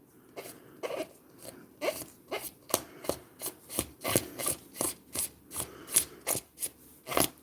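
Dried masking fluid being rubbed off alcohol ink artwork, a close series of short scratchy rasping strokes in a steady rhythm, about two per second, quiet and with no talking.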